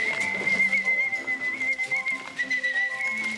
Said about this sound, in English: What we've trained the birds to do is to come to a call, a whistle.